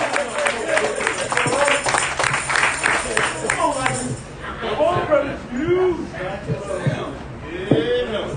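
A congregation at a Wednesday night church service claps for a few seconds, a busy patter of many hands, before a voice takes over and speaks alone.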